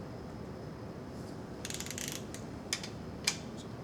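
A torque wrench tightens cylinder head bolts to final spec: a stretch of ratcheting, then two distinct sharp clicks close by over a quiet hiss.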